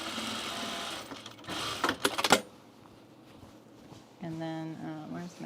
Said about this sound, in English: I'm just going to put in one stitch here.